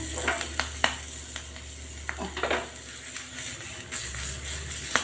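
Green chillies sizzle in hot oil on full gas for a Gujarati tadka, giving a dense, close crackle with sharp pops and occasional utensil clicks against the pan.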